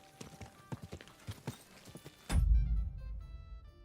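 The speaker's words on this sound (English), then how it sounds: "Easy, good horse." Horse hooves clip-clop at a steady walking rhythm in the medieval role-playing game Kingdom Come Deliverance II, close and clear, until a loud rumbling impact about two-thirds through drowns them out.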